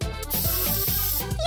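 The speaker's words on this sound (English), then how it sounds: "Styling spray!" A styling spray can in a play beauty-salon scene gives a steady hiss lasting about a second and a half, sounding close and running under background music.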